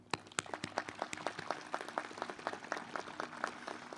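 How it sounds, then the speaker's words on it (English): A commencement ceremony audience claps sparsely, with individual claps clearly separated in an uneven rhythm, fairly faint and distant across a large hall. "I think that deserves a round of applause."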